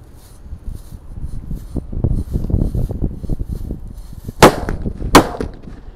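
Jumbo paper firecrackers go off outdoors in a rapid string of low popping bursts, topped by two loud, sharp cracks near the end.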